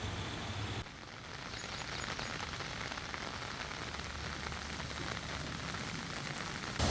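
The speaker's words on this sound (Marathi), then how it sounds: "यवतमाळ जिल्ह्यातही मुसळधार पाऊस पडतोय।" Heavy rain falls in Yavatmal district, a continuous soft patter and hiss of rain on surfaces, steady and fairly faint, with no one speaking.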